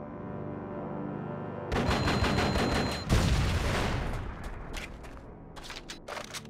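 Loud gunfire bursts in the Die Hard: Vendetta video game on GameCube, with shots fired at a proximity mine, starting abruptly after a low drone and thinning out into scattered single reports at the end.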